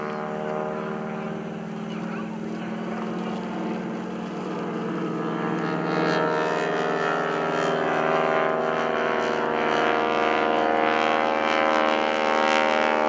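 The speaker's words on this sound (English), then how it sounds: "Going to bring the airplane back around here to Airshow Center." A propeller aerobatic airplane drones steadily overhead at the 2013 Greenwood Lake Airshow, its engine tone swelling louder as it comes around closer, with no voices.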